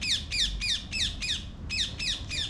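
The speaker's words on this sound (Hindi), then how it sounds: "चिड़िया की आवाज़ आ रही है साफ इसमें" A bird calls repeatedly outdoors near the Ordnance Factory Muradnagar: a fast series of eight bright, descending squawking notes in quick even rhythm with one brief gap, close and clear over low background hum.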